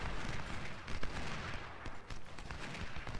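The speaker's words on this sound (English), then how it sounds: "might as well just keep shooting at him." Gunfire from Ultimate General Civil War, the First Battle of Bull Run: dense, continuous volleys of musket fire with scattered sharper shots rolling at a steady loud level throughout, no talking.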